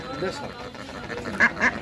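Ducks quack in two short, loud bursts near the end over a busy market murmur at the Nawabganj poultry haat, where local and Belgian ducks are sold; a voice talks throughout.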